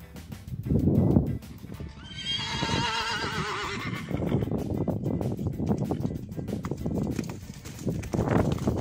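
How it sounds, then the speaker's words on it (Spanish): A mare from a free-roaming herd running, with loud whinnying up close followed by rapid hoofbeats continuing on the ground. "en esta yegua que sale corriendo a buscar a su mejor amigo"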